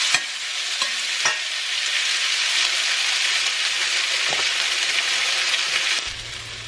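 Chopped onions browning in oil in a frying pan, stirred now and then. A steady, loud sizzle runs throughout, with a few sharp scrapes of the spoon against the pan near the start and a low knock toward the end.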